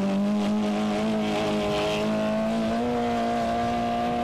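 A race car on an auto sprint track holds a steady, loud engine drone with a sustained pitch that creeps slightly upward, close by and continuous with no talk over it.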